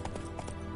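Rapid clip-clop of a horse galloping in the video game The Witcher, a quick burst of hoofbeats under a dense game soundscape, very short.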